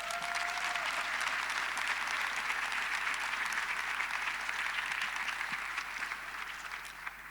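Delegates at a global summit's closing plenary break into broad, sustained applause, a thick steady clatter of many hands that stays level and eases slightly at the very end.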